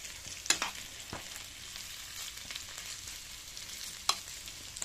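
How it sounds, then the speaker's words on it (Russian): Potatoes fry in a pan on a wood stove, a steady close sizzle with occasional sharp pops and crackles and no talking. "Думаю, дай-ка поджарю, пока печка топится."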